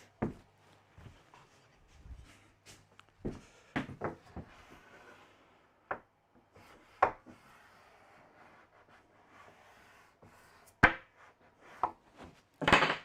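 A chisel cuts along a timber edge strip being fitted to a melamine benchtop, giving irregular sharp close taps and scraping cuts with pauses between strokes.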